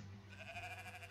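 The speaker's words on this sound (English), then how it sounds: "Some sheep." Sheep bleating in the video game Moirai, a single drawn-out, somewhat distorted bleat heard up close over a low background hum.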